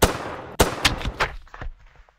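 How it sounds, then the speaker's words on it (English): Several loud gunshots from a horror video game fire in quick succession, each with a sharp crack and a short echoing tail, then fade into quiet. "The only option this game is giving me is shooting."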